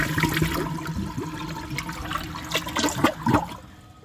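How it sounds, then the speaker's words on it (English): A 1995 Procemex toilet flushes and rinses its bowl with a steady rushing gurgle of water that swells and surges toward the end before tapering off, with no talking over it. "But overall, the flush and the bowl rinse was very good on this toilet."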